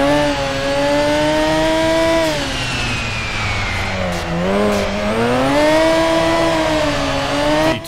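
A Mazda RX-7 drifts in a video game drift simulator, its engine holding a loud, high rising and falling rev under constant throttle while the tires squeal throughout, close and continuous.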